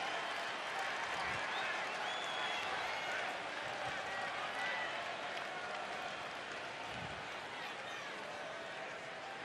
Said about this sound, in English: there are some Mets fans now making noise for the first time tonight